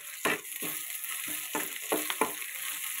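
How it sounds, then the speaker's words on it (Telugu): Ginger garlic paste fries in a hot pan with a bright continuous sizzle, punctuated by several scraping stirs as it is moved around, close and clear with no talking. "అది వేసి వేపాలి"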